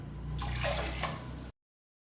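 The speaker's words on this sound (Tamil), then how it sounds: "இப்போ இன்னொரு டம்ளர் தண்ணி விடுறேன்" Water pours briefly into a pressure cooker pot of tomato dal with a splashing, gurgling rush lasting about a second and a half, then stops abruptly.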